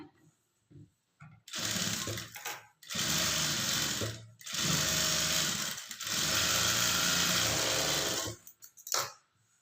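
A sewing machine top-stitches a blouse seam in several long bursts of rapid, loud mechanical whirring and clatter, separated by brief pauses and quieter handling noises.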